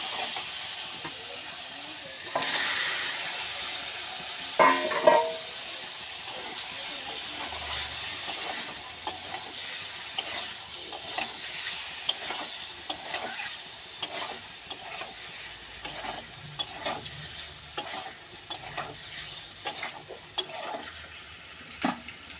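Spice paste sautés in a pan for a Bengali fish dish, giving a continuous sizzle and hiss. Frequent scraping stir strokes and clinks from the spatula punctuate it.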